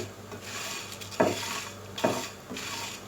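Whole red chillies stirred with a spoon in a pan over a slow flame, giving a soft continuous rubbing rasp with a few sharper scrapes at intervals, close and fairly quiet.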